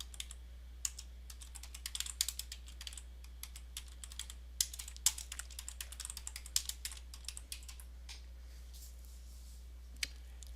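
Typing on a computer keyboard while entering a database name, with rapid irregular clicks in dense bursts that pause briefly, fairly close and quiet over a steady low hum.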